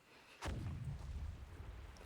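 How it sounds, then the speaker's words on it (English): An explosion near a clinic in a video game, one sudden deep boom that lands after a brief quiet moment and rumbles off into a low tail. "Sounds like some kind of explosion near the clinic."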